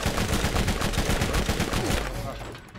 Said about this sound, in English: I'm gonna switch to the shotgun.